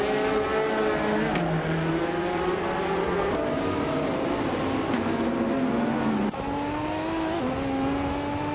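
A 2015 Renault Sport RS01 race car in a racing video game, its engine whining loudly and continuously, pitch climbing and dropping through gear changes, with other cars droning alongside.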